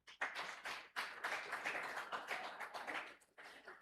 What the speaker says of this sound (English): Can we clap for him?